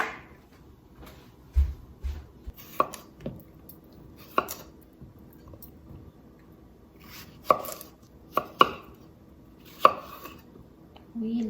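Knife chops through garden tomatoes and Persian cucumbers on a cutting board, scattered sharp single thuds and short clusters of cuts separated by quiet pauses, close and clear with no talking.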